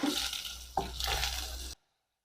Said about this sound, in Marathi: याला अर्धा मिनिट परतून घेऊया